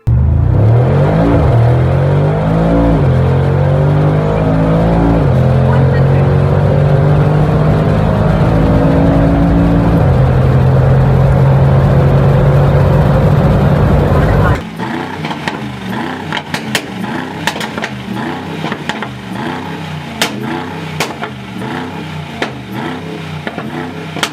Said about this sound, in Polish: ten układ wydechowy niesamowicie brzmi, a 63 w wersji 800 jest naprawdę mega szybkim samochodem